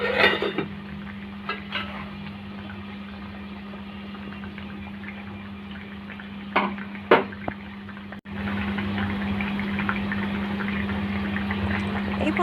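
Rohu fish curry with mustard paste simmers under a lid, a steady close bubbling hiss over a low hum, with a few soft clinks of the pot and a brief break partway through.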